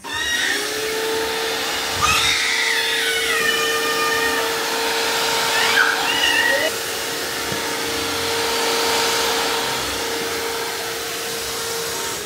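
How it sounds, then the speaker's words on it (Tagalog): A vacuum cleaner that can also mop runs with a steady high whine and airy hiss throughout, close by, with brief clatters and pitch shifts as it moves over the floor. "Meron akong vacuum na pwede rin siyang mag-mop"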